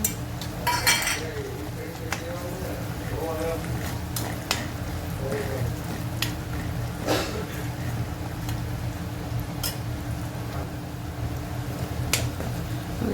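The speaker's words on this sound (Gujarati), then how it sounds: "એની અંદર આપણે નાખી દઈશું કાજુ" Cashews tipped into a pan of sautéed garlic, ginger and chilli for a Gujarati lily haldi sabzi, giving a few light clinks and stirring scrapes over a steady low frying hiss, with a voice speaking at times.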